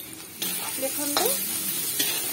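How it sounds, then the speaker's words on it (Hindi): Ginger garlic paste sizzles and fries in a pan for a vegetable curry, with a spoon scraping and stirring through it in short strokes over steady crackling, close and fairly loud. "तापर मु रखिथिबा अदा रसुण पेस्ट को पकई नउछि।"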